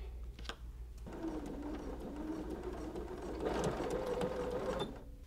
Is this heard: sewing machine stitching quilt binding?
yes